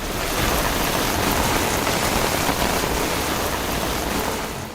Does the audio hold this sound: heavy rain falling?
yes